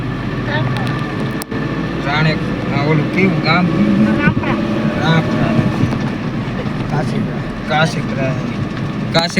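An engine runs steadily throughout, a continuous low drone with people talking over it.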